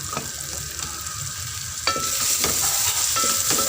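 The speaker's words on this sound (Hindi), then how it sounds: "इसको मिक्स करेंगे।" Turmeric, salt and crushed red chilli frying in oil in a pan for aloo methi matar sabzi, with steady sizzling and a few scraping stirs of a spoon against the pan, close and alone, no voices.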